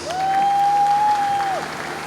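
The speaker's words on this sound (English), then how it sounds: "A round of applause for the Cheer Nighthawks." A crowd applauds the Cheer Nighthawks cheer team at a high school basketball senior night in a gym, with broad clapping under a long sustained whistle-like tone that fades out near the end.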